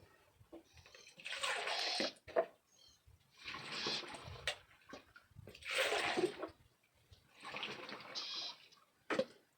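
Water poured into a crop spray mixture for ridge gourd cultivation, heard as four separate splashing pours of about a second each with short pauses between them, fairly close and quiet.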